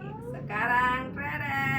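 A young child imitates a cat's meow with a short, drawn-out voiced call that rises and then trails off, close and clear, lasting under two seconds.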